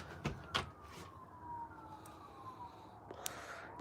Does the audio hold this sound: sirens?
yes